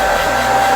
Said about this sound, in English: take your blow dryer, and melt it just a little bit